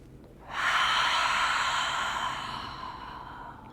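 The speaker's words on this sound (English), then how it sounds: "Cleansing breath." A long, breathy cleansing exhale during a gentle yoga class, starting sharply and tapering slowly over about three seconds, close and alone with no talk.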